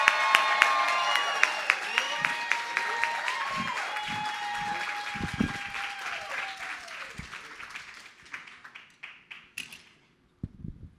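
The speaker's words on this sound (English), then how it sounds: "Everybody give a round of applause to Jose Rodriguez." An audience at a comedy bootcamp graduation show applauds comedian Jose Rodriguez, an army infantry veteran, as he comes to the stage: loud, dense clapping with some cheering and a voice over it, thinning out near the end.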